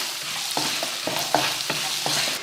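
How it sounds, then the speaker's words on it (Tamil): Big onions and small garlic cloves sauté in hot oil with a continuous sizzle, punctuated by rhythmic scraping strokes of a spatula across the pan, close and unaccompanied by voices. "ரெண்டு பெரிய வெங்காயம் கொஞ்சமாக சின்ன பூண்டு ரெண்டு போட்டு வதக்கிடுவோம்"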